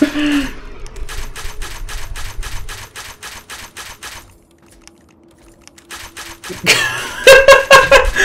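Rapid clicking bursts from a pulse slug shotgun in Fallout New Vegas, fired and reloaded in quick loud succession, a quiet gap, then a sharp crackling blast with ringing tones at the end.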